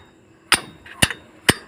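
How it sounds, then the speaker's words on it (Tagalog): Three sharp metallic hammer strikes on a bolt ring out at a steady pace during an Isuzu Elf truck differential teardown, close and loud against a quiet background. "Yan, pinupukpok na yung tornilyo sa lalim."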